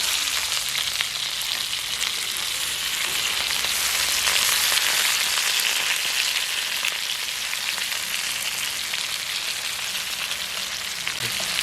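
Fish fries in hot oil with a steady, loud, close crackling sizzle that continues evenly throughout, with no talking.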